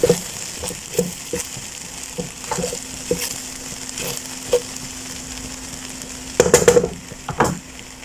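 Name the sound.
stirring egg into vegetable fried rice in pan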